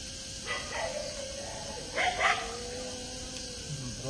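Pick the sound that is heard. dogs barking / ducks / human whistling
dogs barking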